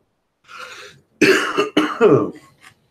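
A person coughs several times in quick, harsh bursts close by, after a softer breathy sound at the start.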